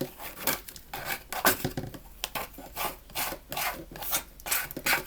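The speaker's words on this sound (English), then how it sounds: "Just scrape all your papers off of there" A plastic scraper rasps repeatedly across a Cricut cutting mat, clearing off paper scraps in close, rhythmic rubbing strokes with no talk.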